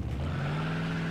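Engine of a white car in Mafia 2, a steady low idle hum with a strong, continuous drone held close and alone for about a second.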